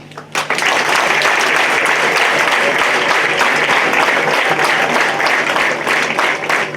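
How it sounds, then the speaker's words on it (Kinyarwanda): Teachers receive loud, sustained applause from a crowd, dense clapping swelling quickly and holding steady throughout. "Barezi mwese muri aha mu ntiza amashyi n'impundu mbashimire"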